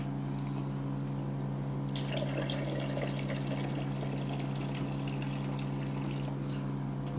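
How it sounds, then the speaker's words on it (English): Water is poured into milk to stretch it, a steady gushing pour with dripping and splashing over a constant low mechanical hum, close and continuous throughout, with no talking. "throw a little bit of water in there just to stretch out my milk"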